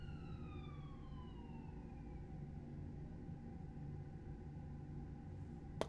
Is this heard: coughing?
no